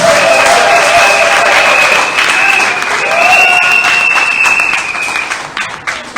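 Sustained ovation from an audience at a civil society general assembly, dense clapping filling the room steadily for several seconds with a faint hum of crowd voices underneath, tapering slightly at the end.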